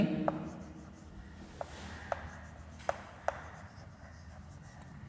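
A pen scratches out an accountancy entry for an issue of shares, with soft strokes and several sharp taps as words are finished, close and quiet over faint room noise.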